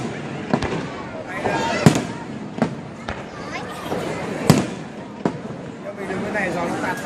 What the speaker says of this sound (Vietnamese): Pháo nổ.